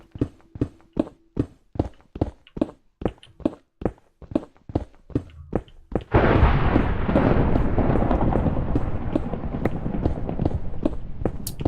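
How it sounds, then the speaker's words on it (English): A thunderstorm rumbles overhead in a game world, a loud broad roll of thunder that starts suddenly and rolls on after a run of regular, evenly spaced footsteps or hoof clops. "Oh, there's thunderstorm above."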